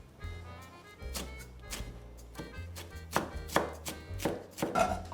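Fresh parsley is chopped finely with a knife on a board, giving a close run of crisp, irregular thunks that quicken and grow louder toward the end, with no talking.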